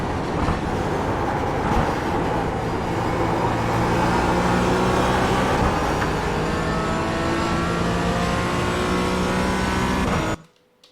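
A Porsche GT4 lap at Mosport in the iRacing sim, the engine droning loud and continuous through gear changes and rising revs, then cutting off abruptly at the end.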